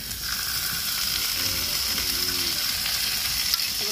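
Tomato going into a hot frying pan in a home kitchen, a steady close sizzle and crackle of oil running throughout with faint stirring, no talk.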